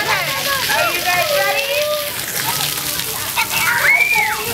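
Water splashes and sloshes continuously in a theme park splash zone at Six Flags Discovery Kingdom, with excited children's voices and squeals over the steady wash of spray.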